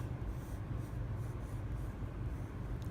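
Pencil scratches steadily across paper in loose, sketchy strokes, a soft continuous rasp with gentle rhythmic swells, close and quiet with no talking.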